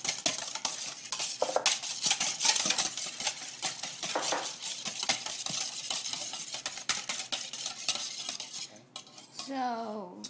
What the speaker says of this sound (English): we're going to whisk it until the egg until the egg gets mixed in